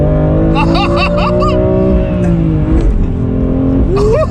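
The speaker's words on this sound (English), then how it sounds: "Let me get a nice little pull. We in second gear" A BMW M2 Competition pulls hard in second gear, its engine note rising steadily and loud from inside the cabin, with a brief spoken exchange over the drone.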